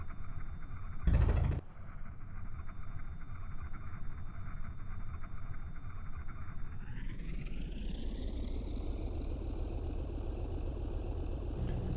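Steady drone of a propeller fighter's engine idling in IL-2 Sturmovik 1946, loud and continuous, with a brief clunk early on and the pitch rising smoothly as the engine revs up toward the end.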